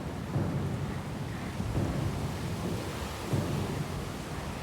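A storm at sea in the video game Pillars of Eternity II: Deadfire, with continuous rain and wind and low thunder rumbles rolling in roughly every second and a half, no speech.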